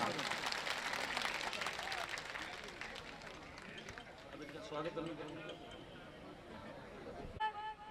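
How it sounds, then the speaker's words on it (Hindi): A crowd at a Congress election rally in Gopalpura, Sujangarh claps in a dense, steady burst of applause that slowly thins out, heard at a distance with a voice on the loudspeaker talking over it. "जोर से तालियां बजा के सबका स्वागत करें आप"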